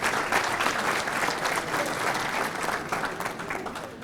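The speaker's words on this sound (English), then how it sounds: "Let's give them a nice round of applause." Steady applause from a banquet crowd at an adult bowling awards dinner, dense clapping at an even level throughout.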